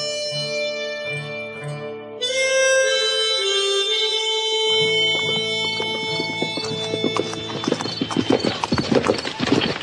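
In a German Lucky Luke Wild West radio play, music plays first, then a horse's hooves clip-clop in a close, brisk rhythm, with a whinny along the way.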